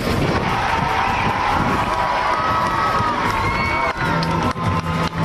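A large crowd at the Bakshi Ka Talab air ground in Lucknow cheers and applauds as paratroopers land, a loud, dense, continuous roar that thins slightly near the end.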